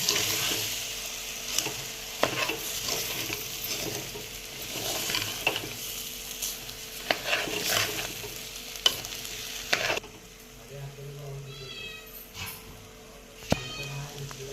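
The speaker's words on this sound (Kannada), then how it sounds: "ಇವಾಗ ಅಕ್ಕಿ ಹಾಕೊಳತ್ತೆ ನೋಡ್ರಿ ಚೆನ್ನಾಗಿ ಮಿಕ್ಸ್ ಮಾಡ್ಕೊಳಕ್ಕೆ ನೋಡ್ರಿ" Rice being stirred and mixed in a pot, with repeated scraping and clinking strokes over a faint sizzle, then quieter moments with a brief cat-like meow and a sharp knock near the end.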